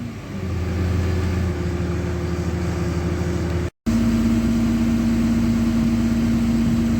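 A 2003 Dodge RAM 3500 Dually diesel idles steadily and loud up close, a low rumble with a constant tonal hum, briefly cut by a dropout midway before resuming unchanged.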